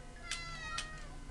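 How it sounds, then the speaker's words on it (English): A pet cat meows twice in quick succession, two short, close, whiny cries about half a second apart over faint background noise. "Don't mind my cat. She just likes to whine about nothing at all."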